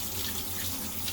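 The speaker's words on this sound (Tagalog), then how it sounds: "hugas muna tayo ng kamay" Running water from a kitchen tap splashes steadily into a sink as hands are washed before frying chicken, a close, continuous rushing hiss with no voices.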